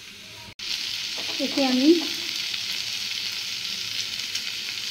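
Roasted spice mix sizzling in oil in a pan, a steady close frying hiss with a brief stirring scrape and a few spoken words near the start.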